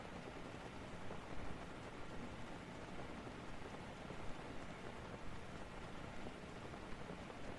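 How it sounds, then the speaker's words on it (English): Steady rain pours down in a Zelda Breath of the Wild game scene near Tarrey Town, a dense, even hiss of falling water with no pauses, with no voices heard. "Sort of ridiculous that it's still raining like this."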